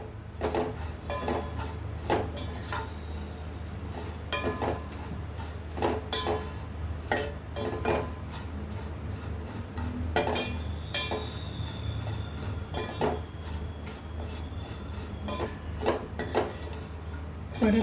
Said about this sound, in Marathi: तरी पण आपण जराशा परतायच्या तुपामध्ये